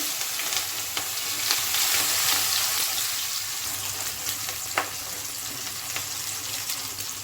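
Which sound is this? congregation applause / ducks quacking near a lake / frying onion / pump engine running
frying onion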